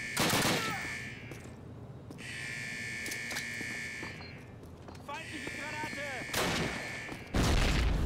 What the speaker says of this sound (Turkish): Bombayı kendime attım ya.